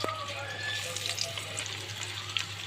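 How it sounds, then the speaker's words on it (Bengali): Snakehead fish hit hot soybean oil in a pan and fry with a loud, close, continuous sizzle and crackle, with a low steady hum beneath. "সবগুলা মাছ দিয়ে দিব ভাজার জন্য"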